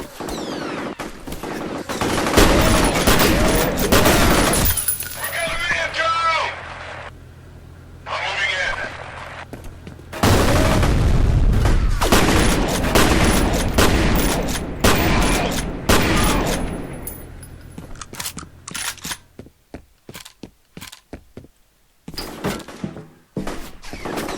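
Bursts of rapid gunfire from the first-person shooter F.E.A.R. Extraction Point, loud volleys broken by short pauses and door-like thuds, with someone talking over parts of the action and sparse single shots near the end.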